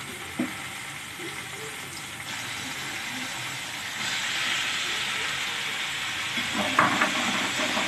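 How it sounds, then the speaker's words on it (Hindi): Arbi (taro root) shallow frying with turmeric and chilli in oil, a continuous soft sizzle with occasional stirring scrapes, rising slightly in intensity toward the end. "और हमें इसे अब सैलो फ्राई करना है जब तक हल्दी क्रिस्प नहीं हो जाएगी हमें तब तक इसको फ्राई करना है"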